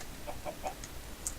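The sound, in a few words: chicken clucking in the video game Minecraft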